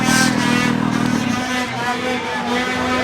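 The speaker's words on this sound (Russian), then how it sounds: "Что-то какой-то провал в двигателе на определенных оборотах." A snowmobile engine screams at high revs during a watercross run across open water, loud and close, the pitch wavering and dipping as it loses power at certain speeds.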